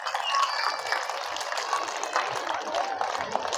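Audience applause at a public city festival in Mahabubnagar, a steady wash of clapping from a large crowd that holds at an even level throughout, with no break or swell.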